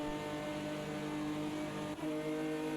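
Late-1990s stock cars race three wide into the first corner in a racing game, engines droning in a close, steady roar with a brief dip in the middle before the pitch picks back up.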